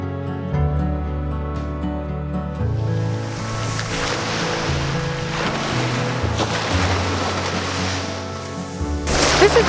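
Gulf of Mexico surf rolling onto the beach at Perdido Key, a steady wash of waves and wind noise beneath sustained low tonal music, swelling louder at the end.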